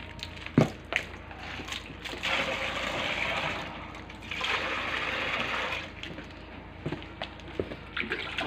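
Water is poured into a homemade soap mixture, a close, sustained splashing rush that swells in two long stretches, with scattered clinks and knocks around it.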